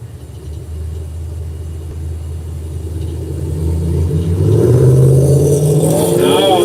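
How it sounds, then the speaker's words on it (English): A Chevy SS and a Ford Mustang in a no-prep drag race: a deep, loud engine rumble builds steadily into a rising roar of acceleration, heard from a distance. "Colgrave in the Chevy SS. Blakeman in the Mustang."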